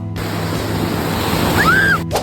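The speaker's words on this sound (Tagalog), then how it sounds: "Medyo malakas nga pala ang alon" Steady roar of strong ocean waves crashing, broad and fairly loud, with a brief high whistle-like tone near the end.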